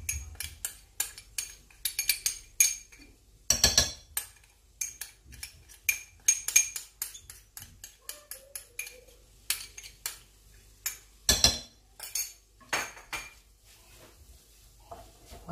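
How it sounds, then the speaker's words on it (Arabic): A spoon stirs vermicelli and leftover sauce in a metal pot, giving repeated irregular clinks and scrapes against the pot, fairly close and quiet, with no voices. "وغادي نبقى البنات كنحرك حتى"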